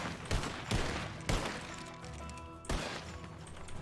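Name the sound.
gunfire in the video game Red Dead Redemption 2 (RedM)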